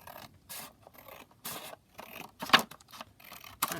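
Scissors cutting fabric scraps of a cherry print, a faint, close series of soft snipping and scraping strokes at an uneven pace.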